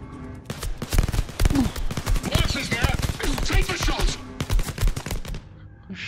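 Rapid gunfire in a Marvel or Star Wars VR shooter, with dense, loud bursts of shots cracking repeatedly over several seconds and brief pauses between volleys.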